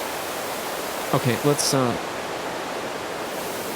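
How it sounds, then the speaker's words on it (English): A steady hiss of rushing, rain-like noise fills the whole clip, briefly overlaid by a short spoken word. "It's like maybe like a rain or like a waterfall kind of thing."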